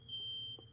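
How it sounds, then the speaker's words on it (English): Building fire alarm going off, a steady high electronic tone held for about half a second before cutting out, heard from indoors at moderate volume. "maybe there'll be a chance that the fire alarm gets turned off during the unboxing"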